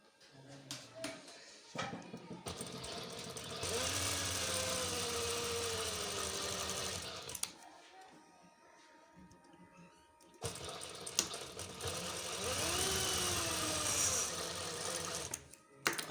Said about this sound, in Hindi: अब आइए हम सिलाई करते हैं।